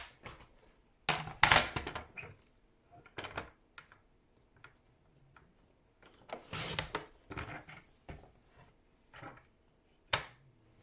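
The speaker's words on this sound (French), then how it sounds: "Je vais venir le couper au massicot." Paper card trimmed on a paper guillotine: a few sharp, close clacks and slicing chops spaced a few seconds apart, with quiet handling noise in between and no talking.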